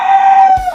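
A turkey gobbles once, loud and close, in a single sustained call lasting under a second, with a brief low thump at the end.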